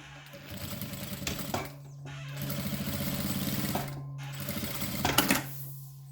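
A sewing machine stitches along the side seam of a fabric toiletry bag in several bursts of steady rapid whirring, separated by brief pauses and a few sharp clicks, close and fairly loud with no talking.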